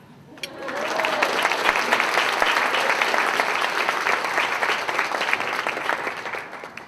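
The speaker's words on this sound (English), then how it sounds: "And for a special applause, Stephanie Black." Audience applause at a literary awards ceremony swells quickly after a brief pause into a full, sustained clapping from a large crowd, steady and loud, then eases slightly at the end.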